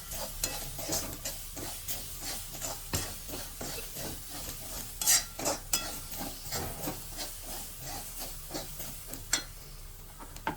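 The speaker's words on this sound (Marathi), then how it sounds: "1 मिनिट असं चांगलं परतून घेऊया." Ground black pepper, asafoetida and coriander powder sauté in a pan for an aloo paratha filling, with a continuous quiet sizzle and rhythmic scraping of a spoon stirring throughout.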